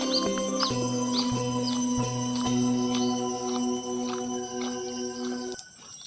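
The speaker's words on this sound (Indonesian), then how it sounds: "suara jangkrik kawan-kawan, campur suara burung." Crickets and birds on an Indonesian island: rapid bird chirps and tweets repeat over steady, layered insect trilling, close and clear, with no voices.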